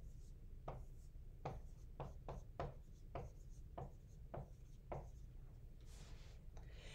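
Marker or chalk strokes on a board during a fractions lesson, about a dozen short, crisp scratches in quick succession, close and quiet over a steady background hum.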